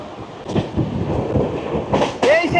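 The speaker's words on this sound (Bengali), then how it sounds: "ঝড়ের গতিতে ছুটে চলেছে 110-এর উপরে ট্রেন" The Sairang Kolkata Express races through Rezinagar station with a loud rumbling rush, metallic wheel clatter and a brief squeal near the end, while a crowd of onlookers talks nearby.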